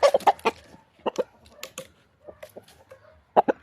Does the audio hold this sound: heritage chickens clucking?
yes